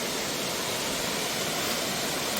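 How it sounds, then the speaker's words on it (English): Ludu waterfall in Daringabadi, Odisha, rushing in a constant broad roar of falling water, steady and moderately distant, with no voices. "we'll talk more on the helmet view while I enjoy the waterfall"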